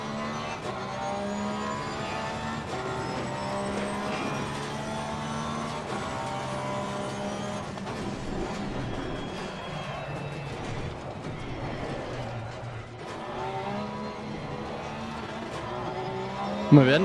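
A race car in Assetto Corsa Competizione laps a track with a faint, steady engine whine that rises and falls through gear changes across the stretch, with occasional quiet speech over it.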